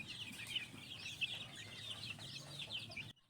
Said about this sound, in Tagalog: Maiingay na nga ang mga sisiw